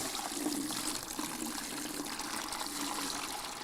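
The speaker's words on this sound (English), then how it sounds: "And if you pour in some water" Water poured into a container with a metal handle during a magnet strength test, a steady trickling, splashing stream running continuously and fairly close throughout, with no talk.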